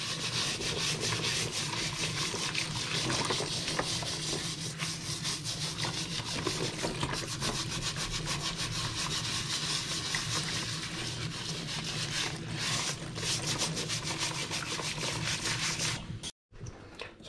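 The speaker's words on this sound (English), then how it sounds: "using the soft side of the bristle brush, is you can give it a scrub as the water is rinsing" A bristle brush scrubs the outsole of a shoe under running water, a continuous dense rasping swish with steady rhythmic strokes that stays loud and close throughout before stopping abruptly near the end.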